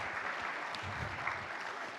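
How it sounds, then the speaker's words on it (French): A congregation claps for university students who have finished their session, the even, continuous patter of many hands heard from some distance at low volume, without speech. "Est-ce qu'on peut les applaudir, s'il vous plaît?"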